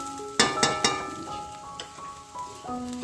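Katla fish heads fry in hot oil in a home kitchen, giving a soft steady sizzle under sharp clinks of a utensil against the pan and held ringing tones.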